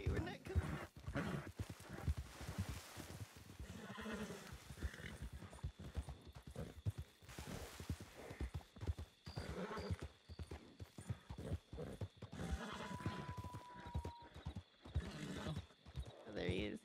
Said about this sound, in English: Seem to have lost bonding with my horse.